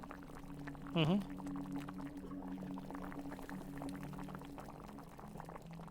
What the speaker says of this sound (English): I love that bubbling sound.